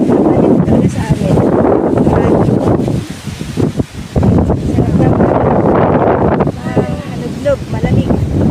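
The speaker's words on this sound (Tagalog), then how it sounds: "Sobrang hangin dito" Strong wind gusting on a muddy mountain path in the Philippines, roaring and buffeting the microphone in heavy bursts with a brief lull partway through. A voice speaks faintly within the gusts.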